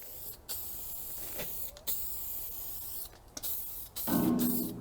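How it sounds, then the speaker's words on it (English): A spray can lays primer onto a car body's metal panel in a workshop building a 1935 Hudson Terraplane, giving several short, close hissing bursts separated by pauses, with a longer spray near the end. "we'll put a bit of primer here on just where that last piece is going to weld to"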